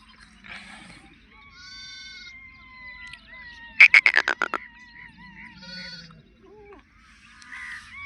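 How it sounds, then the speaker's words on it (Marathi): A sheep that lambed overnight bleats with its newborn lamb on a farm, with several separate calls spread across the moment and one louder, pulsing bleat near the middle. "ही आपली रात्री मेंढी येलेली आहे बघा कसली भारी येली मेंढी आणि कसली भारी बघा याला पिलू झालेलं"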